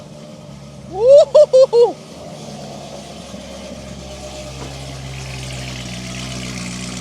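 A Chevrolet Corvette ZR1 settles into a steady low engine idle after a cold start, a constant close rumble; early on a man gives a brief whooping cheer over it.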